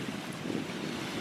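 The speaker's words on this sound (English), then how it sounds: "the speed of which this water is traveling is just phenomenal" Fast-flowing water at the St Lucia river mouth rushes steadily with wind buffeting the microphone, a constant dense roar with no breaks or voices.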